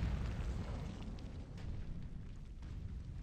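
Deep rumbling explosions from the Mars-set video game ROKH roll on as a continuous heavy boom, fairly faint and low in level, with no voices over them.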